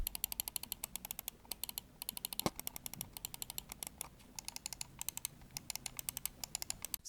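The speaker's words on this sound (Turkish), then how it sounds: "Gelen ses gayet tok ve hissiyatlı bir vuruş var switch'e" Crisp, rapid clicks from the switches of a Havit Kraken StarBlaze 1 wireless gaming mouse, fired in quick steady bursts, close and fairly quiet, with no voices.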